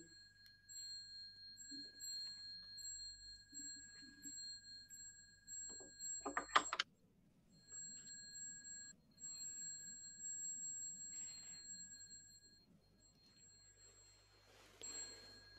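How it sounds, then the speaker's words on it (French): A very small bell rings for a hungry spirits ceremony, with a sustained high, pure tone that lingers faintly through the quiet, plus one brighter strike midway. "En ce moment, il y a une toute petite cloche."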